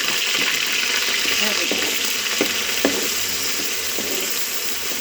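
Ground onion, garlic and ginger paste fries in a pan with a steady, close sizzle, broken by a few soft scraping stirs.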